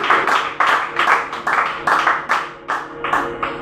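A church congregation claps in unison during worship, about a dozen sharp, evenly spaced claps in a steady rhythm, loud and close.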